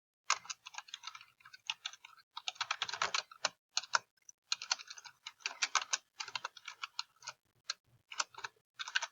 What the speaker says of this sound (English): So if I typed another print statement here